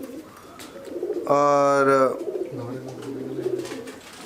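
Madrasi pigeons giving a single clear, close coo of about a second, followed by a lower, softer coo, with someone talking quietly around and over them.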